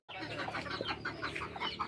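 Chickens clucking inside a henhouse on a Nicaraguan homestead, a busy overlapping chorus of short clucks and squawks, close and fairly loud, with no talk.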